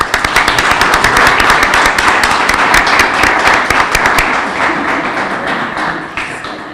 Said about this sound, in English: How about we take a moment to give yourselves and each other a round of applause.